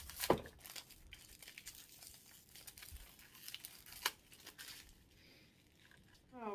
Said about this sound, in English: Like, breaking a box open isn't hard enough, so you have to add plastic on top of it.